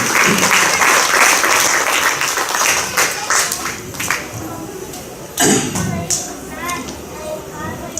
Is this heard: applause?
yes